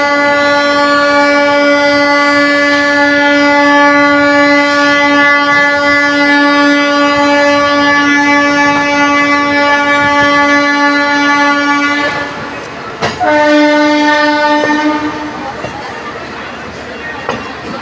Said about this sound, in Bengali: 19 নম্বর প্ল্যাটফর্ম থেকে 10টা 36-এ ট্রেন ছাড়লো অবশেষে